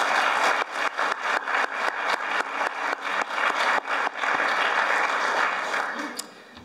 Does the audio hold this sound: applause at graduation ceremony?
yes